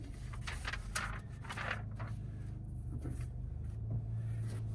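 Inside a 2024 Acura Integra Type S with a manual gearbox, a low, quiet engine and road drone runs steadily, with soft cabin rustles and faint mechanical clicks near the start.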